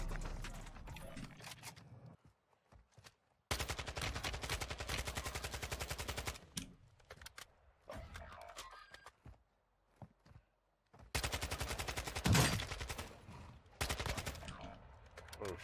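Bursts of KASTOV 74u SMG fire in Warzone 2, loud rapid automatic volleys several seconds long separated by quieter gaps with footsteps and movement, no talking.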